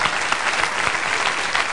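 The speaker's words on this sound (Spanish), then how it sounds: "Un aplauso también para él." Audience applause at a Spanish-language television show, dense steady clapping from a crowd filling the short moment at full, even loudness.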